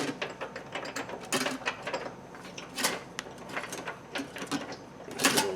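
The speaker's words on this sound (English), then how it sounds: "I'm unscrewing the wire." Small metal clicks and ratcheting taps from a screw being backed out while fitting a DrawTite trailer hitch to a Chevrolet HHR, in irregular close bursts over about five seconds, with no talk.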